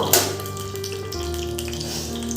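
Hot ghee sizzling steadily as a tempering for samosa filling, a soft continuous frying hiss with a brief sharper crackle at the start, close and even throughout.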